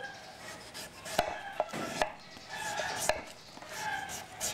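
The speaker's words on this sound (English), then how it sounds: "And I'm going to cut into 8 pieces." A knife cuts a peeled young papaya into pieces on a board: several crisp, separate chops at uneven intervals, close and fairly quiet, with a soft room hush between strikes.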